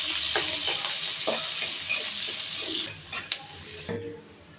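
Onions frying in a pan for a home-cooked Sunday meal, a bright steady sizzle with repeated spatula stirs and scrapes, close by, easing off near the end before a final clatter.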